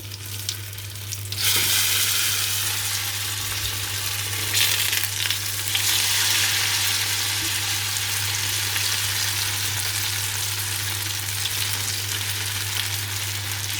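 Grated vegetables tipped into a hot pan with their juice fry with a steady, loud, close sizzle that jumps up as they land and then holds as a constant hiss, with a low hum beneath and no talk.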